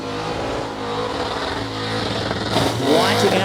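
Burnout skids by a car with damage to its left front at the Motorvation 35 event, a loud sustained engine roar rising toward the end, with a commentator talking over it.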